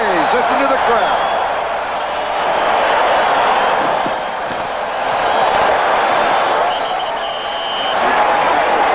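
A stadium crowd roars at a 1980 AFC wildcard football game between the Oilers and Raiders after an interception, a loud swelling cheer that rises and falls in waves with a commentator talking over it.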